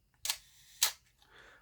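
A Chinon CM-4 film SLR fires its shutter at a half-second speed: two sharp, close mechanical clicks about half a second apart, then a soft faint rustle, with no other sound around them.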